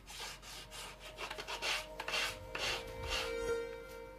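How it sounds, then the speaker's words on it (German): Repeated back-and-forth rasping strokes of a sanding block rounding the corners of a hickory lacrosse stick, close and steady, with faint clinks in the background. "Anschließend rundet er die Ecken mit einem Schleifklotz ab."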